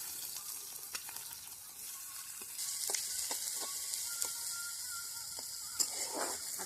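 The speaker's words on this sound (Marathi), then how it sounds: "आता मी त्याच्यामध्ये कांदा टाकून घेणार आहे." Onion and curry leaves frying in oil over a wood-fired chulha, with a steady close sizzle and scattered crackles and pops that grow louder partway through as the onion goes in.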